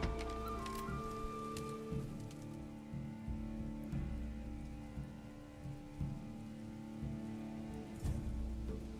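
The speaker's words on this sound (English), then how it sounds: "it has been raining a ton in this game this year." Steady rain falls in the strategy video game Songs of Conquest, a continuous hiss with soft patter layered over sustained game music tones and occasional low rumbles, with no talking.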